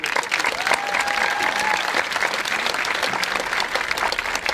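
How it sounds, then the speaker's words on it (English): Steady, full applause from a high school commencement audience for chamber singers after the national anthem, dense clapping sustained throughout with faint crowd murmur. "How about another round of applause for our chamber singers?"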